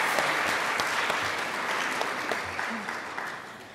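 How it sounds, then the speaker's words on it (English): An awards ceremony audience applauds, a dense, steady wash of clapping that fills the whole stretch and tapers slightly toward the end, with no talk over it. "Can I get a round of applause for Ms. LaFay Baker?"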